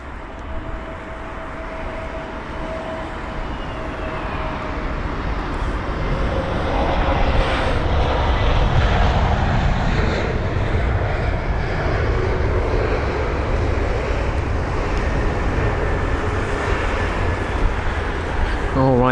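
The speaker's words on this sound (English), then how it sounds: "Caribbean Airlines ATR 72600, welcome along from the Caribbean." A Caribbean Airlines ATR 72-600 turboprop comes in to land at London Heathrow, its engine drone a steady broadband roar that swells louder about a third of the way through and holds until the end.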